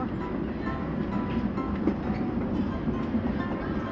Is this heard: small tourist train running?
yes